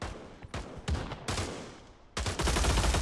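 A bullpup rifle fires in the Pavlov VR video game: close, loud bursts of gunfire come in several separate volleys. The final burst is the longest and most sustained.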